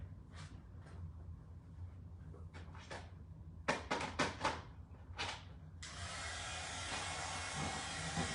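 A hair dryer blowing to dry something that was wetted, preceded by a few sharp clicks and handling knocks, then a steady loud whooshing rush that starts near the end and runs on unbroken.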